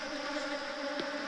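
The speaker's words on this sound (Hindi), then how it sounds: "मधुमक्खियाँ भी इधर उधर फैल रही है इस वाल हाइव के अंदर और लड़ भी रही है आपस में" Honeybees swarm inside a mud wall hive, fighting among themselves and making a continuous, close, fairly quiet buzzing drone with a faint brief flutter partway through.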